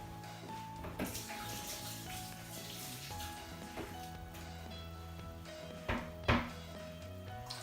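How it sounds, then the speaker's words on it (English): Running water splashes steadily as hands are washed under a kitchen tap, close by, with a few sharp clicks and knocks scattered through. "let's wash our hands and get cracking with the stew"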